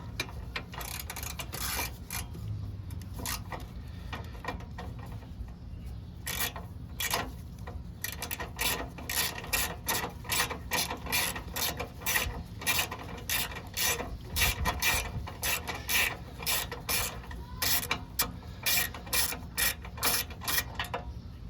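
A ratchet wrench backs out an 8 mm bolt from a motorcycle shifter cover, a quick run of close, crisp clicking strokes that speeds into a steady rapid rhythm, with no talking.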